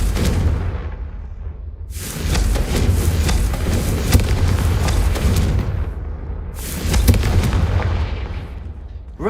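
Confringo explosion spells cast in the video game Hogwarts Legacy, two loud fiery blasts rumbling and crackling through the stretch with a heavy low boom under each.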